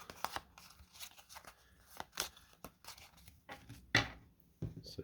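Baseball game cards for a tabletop game being shuffled by hand close up, a run of quick riffling flutters and soft papery snaps with brief pauses, ending in a few sharper taps.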